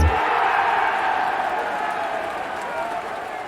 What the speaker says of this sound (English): Big round of applause for my next guest.